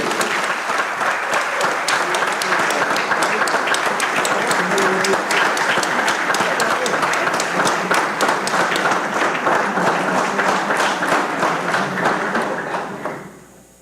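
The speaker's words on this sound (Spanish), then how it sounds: "hay que dar otro aplauso" Legislators in a session of El Salvador's Legislative Assembly give a long round of applause, steady, full clapping from many hands with some rhythmic beats, holding for over twelve seconds before cutting off abruptly.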